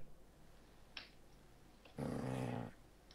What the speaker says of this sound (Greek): Πήρα σκυλάκι, πήρα σκυλάκι.